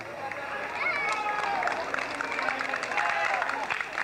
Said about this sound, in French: et on applaudit bien fort